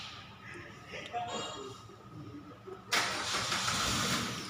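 A car engine turns over and catches near the end after low talk, bursting into a loud, broadband idle with a hissing intake roar that holds steady close by.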